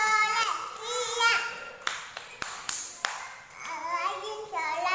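Young children at an Indonesian preschool clap together in a chant, sharp hand claps spaced through the middle of the clip, mixed with the kids' lively singing and talking close by.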